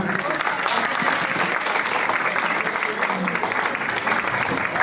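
Steady, sustained applause from a sizable audience at a play school annual day event, loud and even throughout with no letup.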